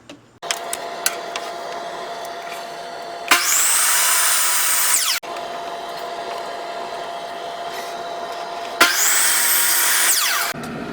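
Power saw cutting wood brick molding at a 45-degree angle for a rotted door frame repair: a motor hums steadily, with two loud, close whining cuts lasting about two seconds each.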